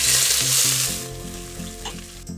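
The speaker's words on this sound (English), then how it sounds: "So we're going to start with oil and then the onion." Chopped onion dropping into hot oil, a loud burst of sizzling that gradually settles into a steadier frying hiss for borscht, close-up with a few stirring clinks and no speech.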